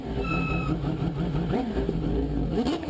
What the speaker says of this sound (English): Look at him revving it.